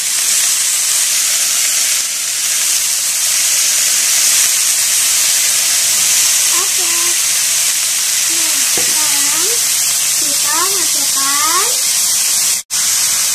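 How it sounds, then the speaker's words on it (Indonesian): Bean sprouts being stir-fried in a pan: a loud, steady sizzle and hiss runs throughout with scraping stirs, while a voice talks briefly over it near the middle. "sekarang kita aduk"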